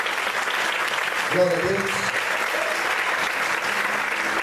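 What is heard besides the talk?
congregation applauding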